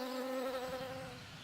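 Stingless bees fly close to their nest in a rainforest canopy, a steady high buzzing drone with a wavering pitch that holds loud and near for the whole stretch.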